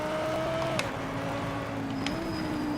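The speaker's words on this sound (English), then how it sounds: "Something's rattling in the engine. Like a vibration rattle." Race car engine in the Project Motor Racing video game held at high revs, a steady droning tone with a rattling vibration, shifting pitch partway through, continuous and fairly loud.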